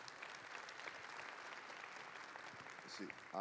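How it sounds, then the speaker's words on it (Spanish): Applause from a seminar audience for presenters at a botnet security talk, steady dense clapping throughout at a fairly low level, ending in a louder burst as a voice comes in. "un fuerte aplauso para ellos por su presentación"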